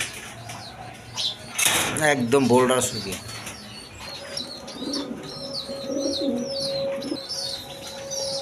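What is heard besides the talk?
pigeons cooing and flapping wings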